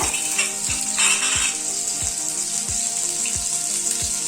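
Shallots sizzle steadily in hot oil with a bright hiss, while a regular low knocking repeats underneath, roughly twice per second.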